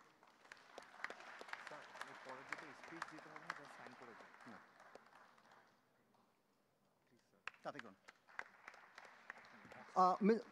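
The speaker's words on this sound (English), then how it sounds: "a warm word of applause to you" Audience at a Best of Bangladesh in Europe event claps for several seconds before fading to near silence, then scattered clapping and a few loud thumps return near the end.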